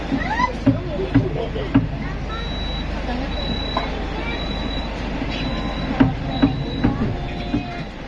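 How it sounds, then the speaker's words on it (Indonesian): Parahyangan passenger train passing on its way toward Gambir, a rumbling rush of wheels on rails with brief high squeals and rhythmic clacks, while people talk over it. "Tuh terlihat kereta api Parahyangan menggunakan rangkaian bekas Argo Wilis apa bukan ya?"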